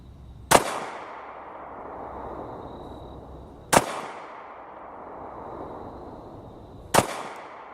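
Three sharp handgun shots from a Sig Sauer P320 Compact in .40 S&W, fired outdoors at distance targets, each a loud crack with a fading echo, spaced about three seconds apart and heard alone.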